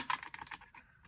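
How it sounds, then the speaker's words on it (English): Orange chalk pastel scraped into a container, a handful of short, dry, close scratching strokes that fade toward the end, quiet with no voices. "all I do is scrape off the chalk pastel here"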